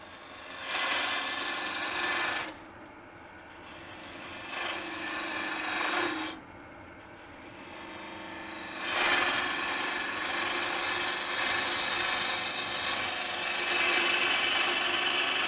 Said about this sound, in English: So you saw that gouge catching and pulling